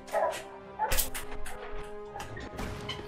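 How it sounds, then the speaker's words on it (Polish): A dog barks in the Hearts of Iron IV strategy game, a couple of short sharp woofs spaced apart over quiet background game sounds. "pies się odpalił"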